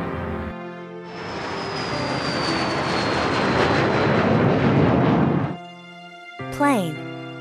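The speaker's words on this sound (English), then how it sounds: "Plane." A passing airplane gives a loud, sustained roar that swells for several seconds and then cuts off. A short rising chime follows.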